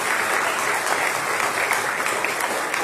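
A crowd applauding steadily, dense clapping from many hands that holds at an even loudness throughout.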